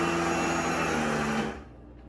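A boat's trim motor whirs steadily as it lowers an outboard's lower unit, then cuts off after about a second and a half. Faint background noise remains afterward.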